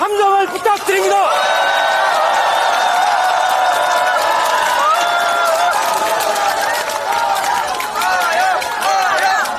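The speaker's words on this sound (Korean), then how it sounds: "뜨거운 박수와 함성을 부탁드립니다" A large political rally crowd cheers and applauds for a party leader, loud sustained shouting and whooping voices over a wash of clapping, with the crowd's cheers swelling and holding throughout.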